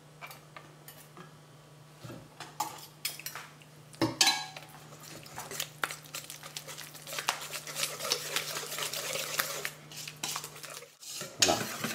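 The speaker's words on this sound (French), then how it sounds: "Et on va mélanger le tout. Alors, je vais le faire au fouet." Whisk clinking and scraping in a bowl as chocolate and faisselle are mixed together, steady close stirring with sharp metallic taps over a low background hum, no talk.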